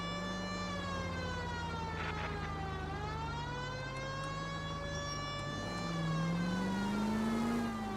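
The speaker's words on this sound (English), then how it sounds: "I mean, they don't hear the siren?" A police siren in the video game L.A. Noire wails continuously, its pitch sweeping slowly up and down, steady and fairly close with no one speaking.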